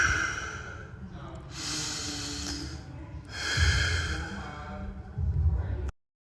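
Slow, deep breathing during stretching: long, audible inhales and exhales drawn through the nose and mouth, close and fairly loud, in two extended cycles.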